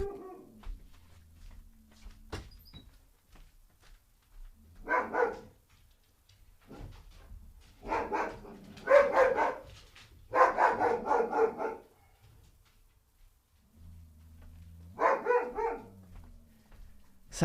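Dogs bark in repeated bursts, some close and loud, with quieter stretches and faint whimpering between the volleys.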